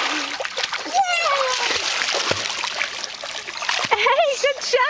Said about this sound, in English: Talia, can you swim over here?